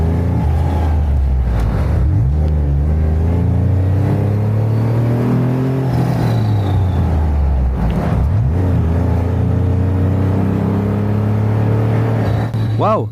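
Jeep Wrangler in factory condition, its engine droning loud and steady with rising and falling rev sweeps, speech mixed in over the rumble.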